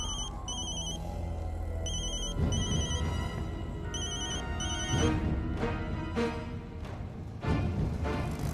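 A telephone ringtone rings in a Hindi TV drama scene, repeating electronic tone bursts in a steady pattern over a background music bed, with no talking.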